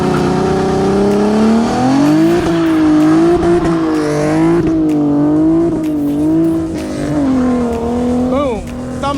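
An LS V8 engine at a car show barks through header pipes in repeated rising and falling revs, loud and close, with a sharp final blip; voices are heard between the pulls.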